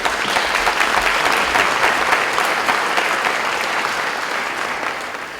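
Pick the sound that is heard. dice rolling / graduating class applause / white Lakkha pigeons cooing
graduating class applause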